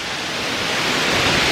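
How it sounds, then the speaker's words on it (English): A powerful waterfall roars in a steady, dense wash of sound, loud and close, slowly swelling slightly with no other sounds over it. "Just another epic waterfall."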